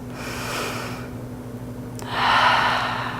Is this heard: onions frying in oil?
no